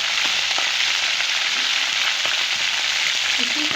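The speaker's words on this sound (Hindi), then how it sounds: "इसको पूरा भूनें तेल में।" Chicken pieces fry in hot oil in a pan for a village-style chicken curry, giving a steady, close, continuous sizzle with faint scraping stirs, and no voices.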